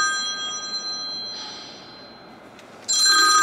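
A phone ringing with an incoming FaceTime call, repeated electronic ringtone tones that start faint over quiet room noise and jump louder near the end.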